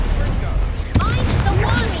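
In Hogwarts Legacy, an Incendio fire spell goes off as one sharp burst and then a short fiery rush, set against busy background game sound and voices.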